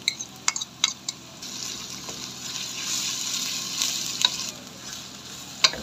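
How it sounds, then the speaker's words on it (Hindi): Onion and garlic paste fry in a pan for achari cauliflower, starting with several sharp stirring clinks before a steady, close sizzle takes over with scraping and occasional taps of a spoon on the pan. "ऑनियन फ्राई करने के बाद उसमें मैं चॉप ऑनियन और गार्लिक का पेस्ट है वो ऐड कर रही हूँ।"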